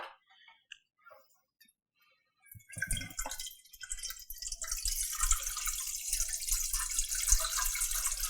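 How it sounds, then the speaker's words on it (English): Water pours steadily into a KitchenAid stand mixer bowl after a few faint drips and clinks, a continuous splashing rush that builds and holds. "So now we're going to put the water into the KitchenAid."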